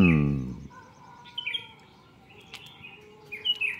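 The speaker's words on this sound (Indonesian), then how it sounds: "Dengarkan burung terus bersiul pertanda pagi hari" Morning birds chirp and whistle in short, scattered bursts at a distance over a soft background hiss, after a brief tonal sound at the start.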